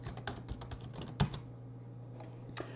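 Fingers typing a search into a web browser on a computer keyboard, a quick run of close, crisp key clicks with one louder tap, followed by a brief pause and a few final presses.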